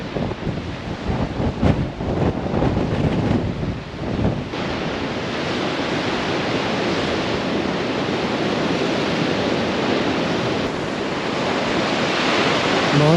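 Rough Sea of Japan waves breaking on a rocky coast, a loud continuous roar of surf with wind buffeting the microphone, heavier crashes in the first few seconds then a steady wash.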